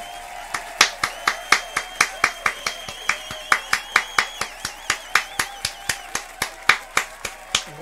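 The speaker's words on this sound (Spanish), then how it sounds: "igual que pongo el sonidito de los aplausos" Rapid, evenly spaced claps ring out one after another, a crisp clapping effect with a steady rhythm and no talking.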